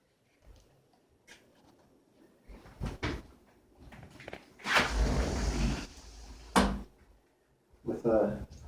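A sliding glass door in a house in Meductic, New Brunswick, rolls along its track with a rumbling slide between scattered knocks, thumps and footsteps in a quiet room.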